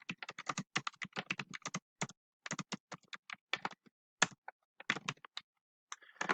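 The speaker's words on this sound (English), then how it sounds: "Well, I'll type it out." Fingers type on a computer keyboard at close range in irregular clusters of crisp clicks separated by brief pauses, with quiet gaps in between and no talking.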